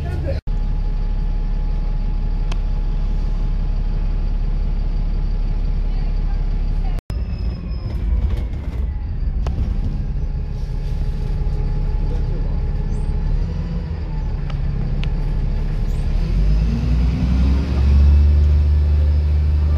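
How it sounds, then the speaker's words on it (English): Interior of a bus on the 875 service to Cannock in Staffordshire, with a steady low engine rumble and road noise throughout, a brief dropout near seven seconds and the engine note swelling louder toward the end. "we're now on the 875 bus over to Cannock"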